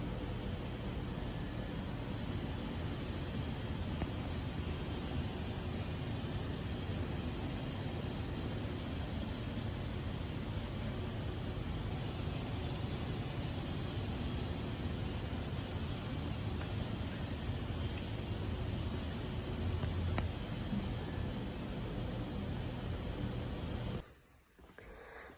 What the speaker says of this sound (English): I'll show you a little video right now of them in the CNC